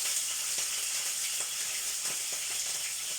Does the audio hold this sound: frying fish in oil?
yes